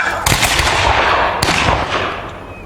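English Civil War reenactors fire a musket volley at Forty Hall: two sharp, loud outdoor bangs about a second apart, each followed by a short rumbling echo.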